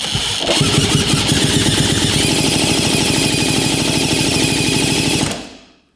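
The engine of a 1950s German scooter runs with the throttle held open. It gives a loud, fast, even chugging for about five seconds, then cuts out abruptly and fades away.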